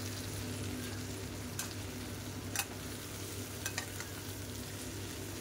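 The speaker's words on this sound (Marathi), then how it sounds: "चिकन चंगेजीसाठी कांदा भाजून घेतलाय" Onion, cashews and melon seeds frying together in a pan for chicken changezi, giving a steady low sizzle with a few soft stirring clicks and scrapes.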